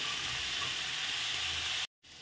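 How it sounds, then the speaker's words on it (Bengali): Potatoes frying in a little oil make a continuous close hiss and sizzle for about two seconds, then cut off abruptly into a short gap before a fainter sizzle resumes. "আলুটা ভাজা হয়ে গেছে।"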